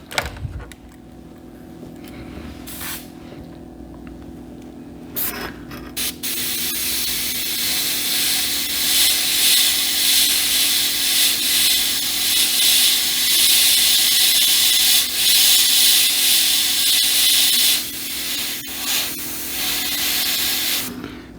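An airbrush spraying paint to shade rivets gives a loud, close, airy hiss. It comes in short bursts at first, then runs as a long continuous spray with small dips.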